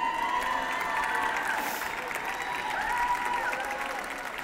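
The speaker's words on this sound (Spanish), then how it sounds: "Pido un fuerte aplauso para recibirla a la embajadora, que es Carla Nobile." Crowd at an architecture graduates' anniversary ceremony applauds and cheers to welcome a speaker, steady and fairly distant, with shouts and whistles rising over the clapping.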